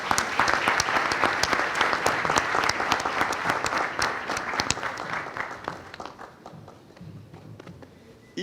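An audience at the opening of a law fair applauds the rector of the Université autonome de Port-au-Prince, with vigorous, sustained clapping full of sharp individual claps that gradually thins and fades near the end.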